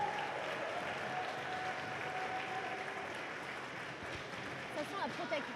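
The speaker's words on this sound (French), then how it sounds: "Allez, on applaudit bien fort." Applause in a gymnasium after a women's N2 match between Les Murennes of Rennes and the Panthers, a dense continuous patter filling the hall at steady loudness, with crowd noise and talk mixed in throughout.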